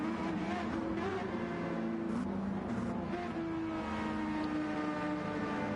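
Several race car engines in a racing video game, a Porsche and a McLaren heading into turn one, droning loudly together in a dense, steady roar with overlapping engine tones throughout.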